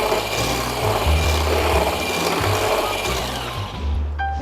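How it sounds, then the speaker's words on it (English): Egg whites whisked by hand with a hand whisk in a bowl, a steady close scraping, rattling rhythm that continues without pause. "We will now mix the egg white with a hand whisk."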